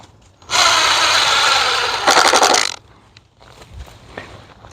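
Cordless power drill driving screws into wood while building a deer fence: a loud, close, steady whir lasting about two seconds, then a pulsing burst as the screw seats, followed by quiet handling sounds.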